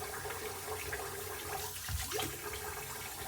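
Tap water runs steadily into a sink for rinsing after a shave with a Gillette Tech safety razor, a constant close hiss and splash with no talk.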